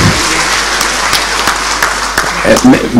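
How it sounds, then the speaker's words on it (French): Audience applause during a debate following a conference in a French town hall setting, loud clapping with sharp accents, with a voice starting to speak over it toward the end. "Alors on peut l'applaudir parce qu'il est dans votre ville."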